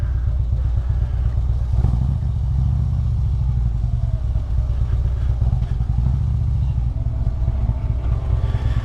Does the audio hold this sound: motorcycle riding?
yes